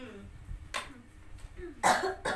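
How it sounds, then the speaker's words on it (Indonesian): A few sharp, hoarse coughs from a woman ring out close by, one early and a louder pair near the end, separated by quiet breathing and murmur. "Ibu ini dari minggu kemarin batuk nggak berhenti ya."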